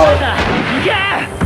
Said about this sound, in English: Danger close artillery on SL3